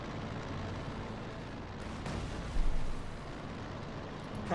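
Air strike explosions rumble in the Company of Heroes 2 battlefield, a low continuous roar with one heavier boom near the middle, distant and dull over the wartime game soundscape.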